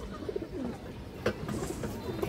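A pigeon coos softly a few times in short, repeated phrases, close by amid faint background noise.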